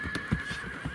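A horse gives a single short neigh, fairly close and clear, among prized, trained horses at a Kyrgyz horse event.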